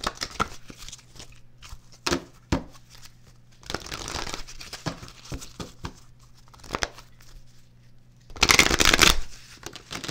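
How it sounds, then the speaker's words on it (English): Oracle cards being shuffled by hand, with short papery riffles and slaps scattered across the stretch and a louder, longer riffling burst near the end, close up with no talk. "We're going to pull some surrender cards"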